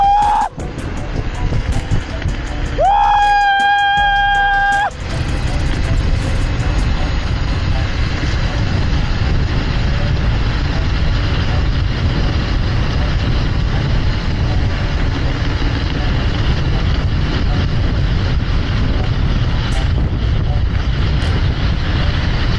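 Modified Dualtron Thunder 2 electric scooter on a private road, its motor whine climbing sharply at the start, then a steady loud rush of wind and motor noise as it holds speed, close to the rider.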